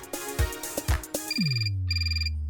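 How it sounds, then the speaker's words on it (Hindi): An electronic ringtone chimes in two repeating bursts after a few thumps and a sliding low tone, loud and close. "फोन बजा।"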